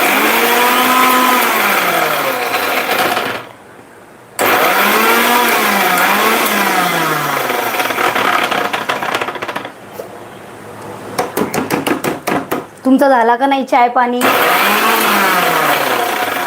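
Kitchen mixer grinder crushing a dry chili spice paste without water, loud whirring bursts that stop and restart several times, with someone speaking briefly between runs.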